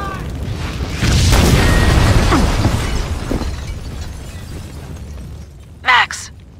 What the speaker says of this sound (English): The building's blowing up.